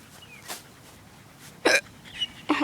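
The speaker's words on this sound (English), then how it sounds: "I got the hiccups." Hiccups from a person: three or four short, sharp catches of breath spaced irregularly over a few seconds, the last two loudest, with a quiet room hiss between them.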